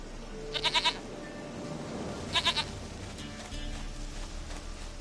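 Two short bursts of goat bleats from The Witcher 3, each a quick wavering cluster of three or four calls, heard over a steady low ambient background with no talking.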